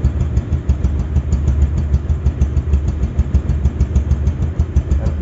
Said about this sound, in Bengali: দেখেন সাউন্ডটা দেখুন রানিং অবস্থায় আছে।